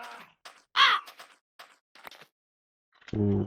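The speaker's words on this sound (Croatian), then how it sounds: "to vam je Gavran" A raven in Minecraft with the Shadow Shows mod gives one loud, raspy caw among a few fainter short calls, then a low droning tone at the end.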